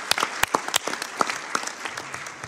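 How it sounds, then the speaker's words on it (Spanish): Attendees at a UN Security Council meeting on Venezuela applaud the speakers, with sharp, distinct claps standing out over a softer wash of clapping before it tapers off. "vamos a darles un aplauso."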